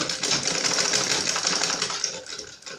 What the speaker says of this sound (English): So let's get on the sewing machine now. So I will sew on the 16 inches mark now.